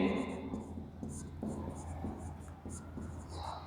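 During a biology lecture on fruits, scratchy strokes on a board come in short repeated bursts with a steady background hum, and a voice speaks faintly alongside them.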